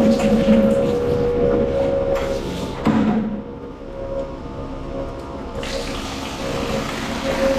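Steady running water on a dairy farm, flowing continuously at moderate loudness with a brief dip in the middle, while a person speaks over it.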